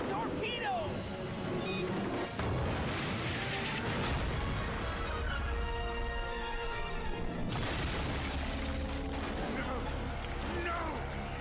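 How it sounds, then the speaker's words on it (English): Cartoon submarine torpedoes launch and explode in the 2003 Teenage Mutant Ninja Turtles series, with loud rumbling blasts and crashing booms mixed with dramatic music and character voices. "Firing torpedoes!"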